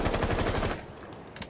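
An SMG-11 submachine gun in a video game fires a fast, loud automatic burst lasting under a second, then cuts off to quiet.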